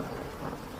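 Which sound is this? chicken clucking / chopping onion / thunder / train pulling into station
thunder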